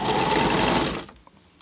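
A late-1970s sewing machine back-stitches fabric in a loud, rapid whir that runs for about a second and then cuts off into quiet.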